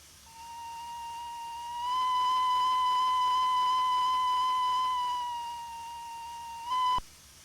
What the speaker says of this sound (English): We now have a quillable whistle.